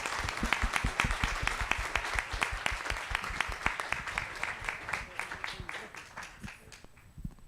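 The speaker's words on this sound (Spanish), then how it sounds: "un aplauso para ustedes y un aplauso también para la oficina" An audience at a forum in Guatemala applauds, a dense patter of many hands clapping steadily for several seconds before thinning out toward the end.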